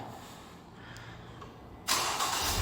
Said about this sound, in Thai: ตอนนี้ผมสตาร์ทเครื่องยนต์แล้วนะครับ